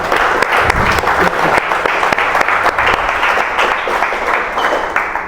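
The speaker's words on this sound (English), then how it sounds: "Please give a big round of applause to Jean." A conference audience breaks into loud, dense applause after a Bitcoin Q&A session, sustained steady clapping from many hands filling the room without a break.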